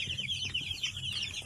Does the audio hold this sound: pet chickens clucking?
yes